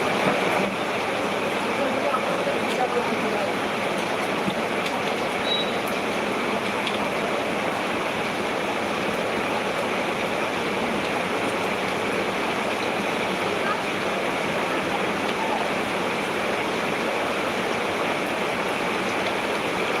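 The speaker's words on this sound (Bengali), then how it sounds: "দারুণ বৃষ্টি" Steady heavy rain pours down on a wet day outside a shop, a dense continuous wash of water noise that stays loud and even throughout with no breaks.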